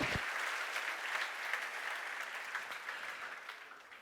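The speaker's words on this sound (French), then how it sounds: "Nous pouvons applaudir tous les pères de la maison" Steady applause from a church audience honoring the fathers, a dense wash of many hands clapping without pause from start to end, full and moderately near, with faint voices beneath.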